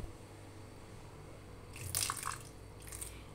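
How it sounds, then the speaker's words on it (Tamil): Water poured lightly into a bowl of ragi (finger millet) flour for bitter gourd pakoda batter: a brief, soft trickle and drip in the middle of the clip, quiet and close, with no talking. "லைட்டாக தண்ணி ஊற்றி"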